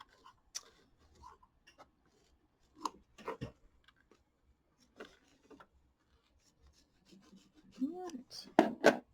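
Scissors snip and trim quilt fabric for a mini quilt in a series of sparse, quiet cuts and rustles spread across the clip, with a few louder snips near the end and soft background sounds between.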